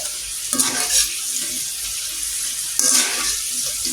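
French fries sizzle in hot oil as they are stirred, a bright hiss broken by two scraping stirs, close and fairly loud with no talking.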